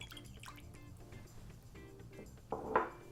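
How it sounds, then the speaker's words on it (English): Extra virgin olive oil and white distilled vinegar are poured into a bowl for a vinaigrette, heard as faint close drips and trickles that swell into a brief, louder pour near the end. "I'm going to combine some extra virgin olive oil in a bowl, some white distilled vinegar"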